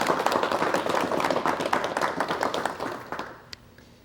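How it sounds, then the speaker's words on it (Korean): Studio audience on a 1986 KBS television talk show breaking into applause, brisk dense clapping that fades out over the last second with a few stray claps. "박수를 부탁드리겠습니다."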